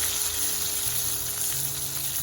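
Onion and garlic paste sizzles steadily in hot oil with popped mustard seeds, a dense, continuous frying hiss close up with faint stirring underneath.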